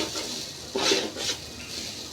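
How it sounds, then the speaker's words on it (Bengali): Raw rice for bhuna khichuri is fried and stirred in a pan, giving soft sizzling with a few scraping stirs and light clinks, close up and without talk. "ভুনা খিচুড়ির সবচেয়ে প্রধান কাজই চাউলটাকে সুন্দরভাবে ভেজে নেওয়া"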